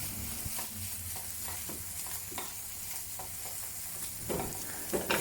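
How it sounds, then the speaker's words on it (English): Bacon frying over low heat in a pan, a steady soft sizzle and crackle with occasional pops and stirring scrapes, no talking. "fry the bacon over low heat until it turns crispy"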